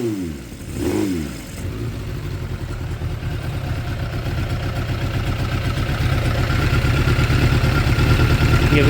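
A 2006 Suzuki GSX 600F Katana with a carburetor problem, its engine revving up from idle under the throttle, a close, loud, rough rising drone with a pulsing beat that climbs steadily and holds high.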